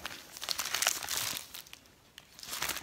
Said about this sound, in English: So it's just a little, it's just a plastic bag, really, to slip your tablet in.